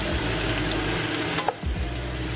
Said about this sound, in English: onions going in